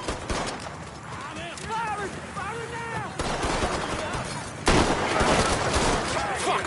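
Sustained gunfire in the Mafia 3 video game, rapid bursts and volleys crackling throughout, loud and close, with voices shouting over the shooting.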